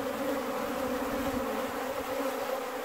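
Honey bees in a single backyard hive in September, Newfoundland, hum in a steady, dense buzz at the busy entrance as foragers bring in pollen, a continuous close drone with no talking.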